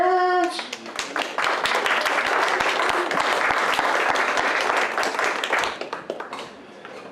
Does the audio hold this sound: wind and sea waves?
no